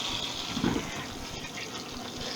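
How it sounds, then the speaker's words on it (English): Butter spitting and sizzling in a hot roasting pan of potatoes, a close, busy crackle with a brief louder burst of spatter partway through. "It's the water content in the butter, I think, that makes it spit like that."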